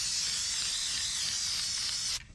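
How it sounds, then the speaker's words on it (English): A spray can hisses steadily as paint is sprayed onto a trailer fender, a close, continuous burst for about two seconds before cutting off. "I'm terrible at spray painting."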